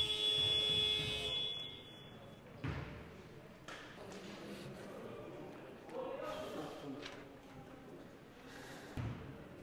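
An end-of-quarter buzzer sounds for about a second and a half at a wheelchair basketball game between ASPA Strasbourg and Le Puy-en-Velay, then gives way to a faint echoing hall with thuds and voices of a commentator and crowd.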